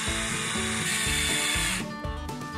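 A power screwdriver driving screws into wooden planks in a barn being turned into a workshop, giving a loud whirring motor with a rhythmic ratcheting pattern that cuts off near the end and restarts in shorter bursts.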